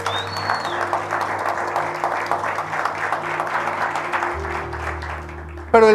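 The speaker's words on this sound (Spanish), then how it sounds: "Dale un aplauso al Señor" A church congregation claps together in a steady, moderately loud burst of applause for about six seconds, with a sharp louder sound at the very end.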